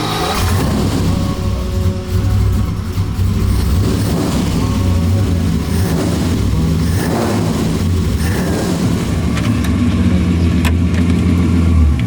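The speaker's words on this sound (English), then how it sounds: "First drive of the Ferrari 250 GT short wheelbase California Spyder" A Ferrari 250 GT short-wheelbase California Spyder engine runs steadily throughout, a continuous loud mid-pitched drone with slight swells in revs, close by and without talk.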